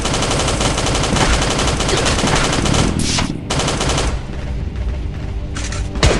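Loud, rapid automatic gunfire bursts continuously at close range in a video game, with brief gaps around the middle and one near the end.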